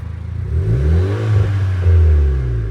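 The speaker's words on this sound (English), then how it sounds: "Let's do a small rev, as you can see." A Honda Accord engine gives a short, close rev, the pitch climbing and wavering before holding near the top, with no one talking.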